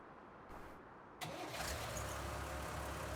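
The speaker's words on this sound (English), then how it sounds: "Let's try it now with the tractor on." A tractor engine in Farming Simulator 19 cranks briefly, then catches and settles into a steady low idle hum, fairly quiet overall.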